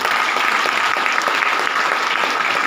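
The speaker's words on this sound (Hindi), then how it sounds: "सबसे पहले तो आप लोग के लिए जोरदार ताली हो जाए।" Loud, dense audience applause at a seminar and workshop, a steady wash of many hands clapping together throughout, with no pauses or talk.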